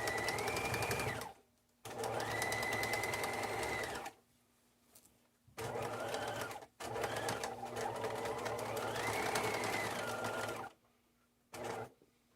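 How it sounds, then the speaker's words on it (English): A sewing machine top stitching the flap of a leather-style satchel, running in several loud steady bursts of a few seconds each, separated by short quiet pauses. "Just going to finish top stitching."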